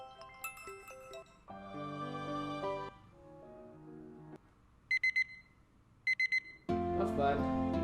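Alarm tones from a sleep app play as a series of short melodic samples, one after another: chiming and tinkling snippets, a pair of quick repeated beep bursts, then a fuller tune starting at the end.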